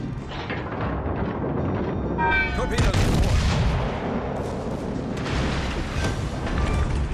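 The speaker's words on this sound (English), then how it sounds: "Torpedoes. Our victory is in sight." Torpedo explosions in a naval battle video game come as heavy booms and rumbling blasts under busy game sounds, with a voice speaking briefly.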